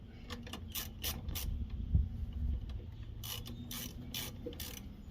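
A Pittsburgh ratchet snugs bolts on a 1984 Honda 200M motorcycle, its quick clicking strokes coming in two bursts, close and fairly quiet, with no talk.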